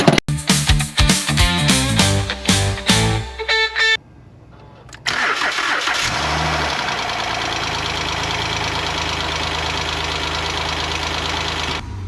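An Acura TL V6 engine turns over with rapid cranking bursts after a timing belt replacement, falls briefly quiet, then catches and settles into a loud, steady idle.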